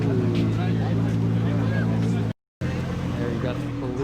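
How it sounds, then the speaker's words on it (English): Ford GT supercar pulling away from a supercar meet, a loud nearby engine drone under crowd chatter and talk, broken by a brief cut partway through. "we got the Ford GT leaving"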